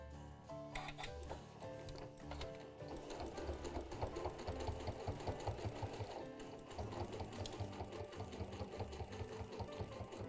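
A sewing machine stitches binding around the edge of a washable fabric cookie tray cloth. The motor runs loud and steady with a fast, rhythmic clatter that pauses briefly near the start and then carries on continuously.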